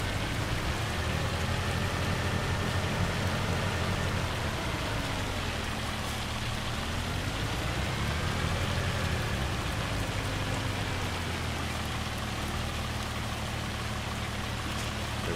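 Hail and rain pour down steadily in Farming Simulator 25, a dense, constant hiss of drops drumming on surfaces, with a low rumble beneath and no voices.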